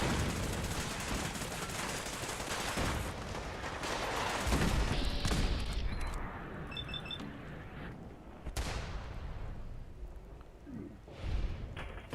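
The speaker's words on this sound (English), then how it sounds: "It looks like one of the other artillery stations is firing" Gunfire and artillery in Fallout 4 crackle and thud through a settlement battle, bursts of rapid shots and heavier booms overlapping at a distance, with a few sharper blasts standing out near the end.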